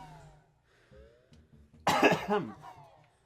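One harsh cough bursts out close up after a few quiet moments, followed by a shorter second hack.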